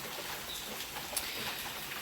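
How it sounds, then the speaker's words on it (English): Rain falls steadily outside on a street in Sosua, Dominican Republic, a faint, even hiss of drops with no voices. "It's raining"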